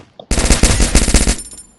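A shotgun fires in a video game, a loud burst of rapid, closely spaced blasts lasting just over a second, then a ringing tail, with no voices.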